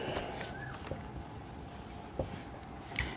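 Pen strokes on paper during a Class 10 maths lesson on real numbers, a steady faint scratching with a few brief taps, alone without talk.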